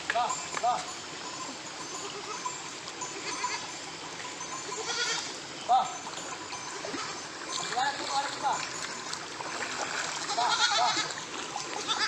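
Goats bleat now and then, leaping across a stream, over a steady rush of flowing water, with people talking throughout.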